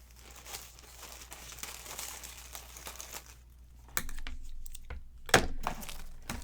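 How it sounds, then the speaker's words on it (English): Plastic press-and-seal wrap being pulled and cut off its roll during a craft session, giving soft crinkling and rustling that builds toward a few sharper tearing snaps near the end, close and fairly quiet with no talking. "Just going to cut off some press and seal"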